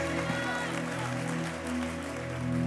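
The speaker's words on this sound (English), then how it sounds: "Clap your hands." A church congregation claps at a service with a steady, moderately loud patter of hands, with some voices and a low musical hum mixed in beneath.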